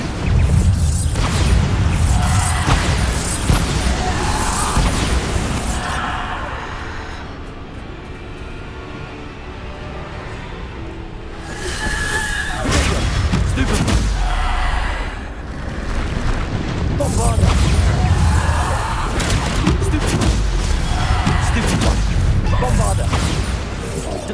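Spell blasts and magical explosions go off in the Hogwarts Legacy video game, with dense booming impacts and rumbling bursts in repeated waves over a continuous background of game effects, while a voice calls out incantations.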